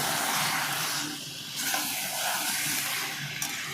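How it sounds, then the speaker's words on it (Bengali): Chicken pieces sautéed with chopped tomatoes in a pan for chicken kosha, giving a steady, close, broadband sizzle and hiss that runs the whole time with no talking. "এবার মাংসটাকে সুন্দরভাবে কষাবো"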